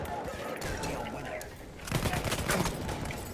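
Gunfire in the video game Battlefield 1, rapid bursts of shots rattling loudly in the second half after a calmer stretch of game noise, with a player talking throughout.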